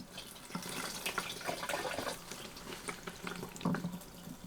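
Fuel pouring into the tank and fuel line of an XR 400 motorcycle, a faint steady trickling and splashing of liquid, close and continuous.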